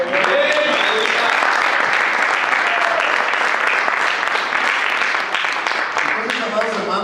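Church congregation clapping loudly and steadily throughout, a dense sustained wash of many hands with occasional voices and cheers rising inside the hall.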